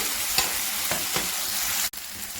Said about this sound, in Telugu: ఆలు వేగుతున్నప్పుడు